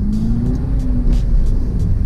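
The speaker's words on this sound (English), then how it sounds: "You could also hear that exhaust note." A 2019 Mini Cooper S exhaust burbles steadily at low pitch, a continuous engine drone with no talking.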